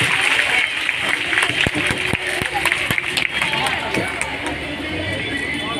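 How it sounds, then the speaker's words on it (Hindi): Loud applause from a crowd at a school Republic Day celebration, a thick clapping wash mixed with crowd babble and voices talking, easing slightly toward the end. "के लिए जोरदार तालियां।"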